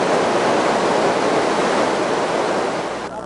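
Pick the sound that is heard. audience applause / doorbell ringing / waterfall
waterfall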